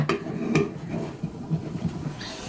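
A lid set down and closed on a jar of homemade yogurt yeast, giving a couple of close, light clinks and knocks over a dull rattle, with no voices.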